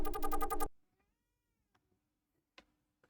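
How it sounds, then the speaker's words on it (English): A single loud, drawn-out cat meow up close at the start, followed by near silence broken only by a few faint ticks and clicks. "the cat be meowing at me"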